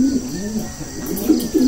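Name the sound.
pigeon cooing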